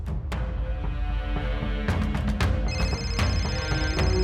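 A phone rings with a call from dad, its bright repeating tones sounding over a dense, loud background of music throughout.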